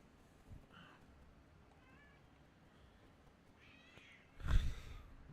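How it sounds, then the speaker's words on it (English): A cat meows a few times in the background, faint short calls, followed by a louder, closer yowl near the end. "If you hear cat, that is my cat in the background."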